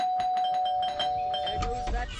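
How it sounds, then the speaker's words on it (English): Electronic doorbell chiming repeatedly in Scary Teacher 3D, a rapid run of bright, tonal rings with a steady high note underneath, loud and near, fading slightly at the end. "There goes that stupid bell again."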